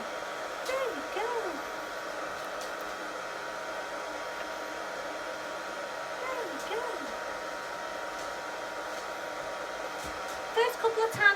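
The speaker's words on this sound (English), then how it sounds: "You're going to put a hairdryer on a dog's head" A hair dryer blows steadily on a wet puppy after its bath, a constant whooshing hum throughout with someone talking softly over it.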